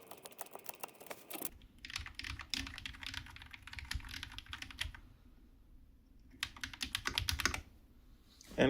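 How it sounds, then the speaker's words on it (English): Typing on a budget K530 keyboard modded with Kisnt KN85 switches and reassembled, close and clear: bursts of rapid keystroke clatter separated by short quiet pauses, with no talking. "And we can hear actually once the keyboard's all back together."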